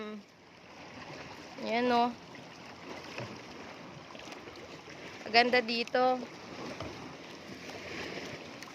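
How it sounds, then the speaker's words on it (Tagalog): Steady rushing surf of waves breaking against rocks, a constant wash of water, while a person speaks briefly twice over it. "Malakas yung hampas ng alon sa mga batuhan."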